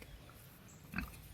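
Pigs trail along through a dry, hot silvopasture paddock, with one short grunt surfacing about a second in over a low, steady rumble of movement.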